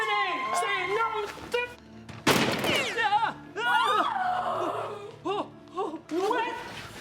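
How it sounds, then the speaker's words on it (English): A single sharp gunshot from a firearm fired in a comedy-drama scene bursts out midway, set amid excited voices, chatter and laughter both before and after the shot. "Unlawful discharge of a firearm, that's why."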